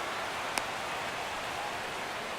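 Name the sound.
rain falling in MLB The Show 17 video game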